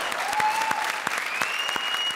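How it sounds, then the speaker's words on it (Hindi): A studio audience on the comedy show Comedy Circus applauding for Archana, a dense, steady burst of clapping close up, with a sustained musical tone sounding beneath it. "ठोको ताली अर्चना के नाम पे"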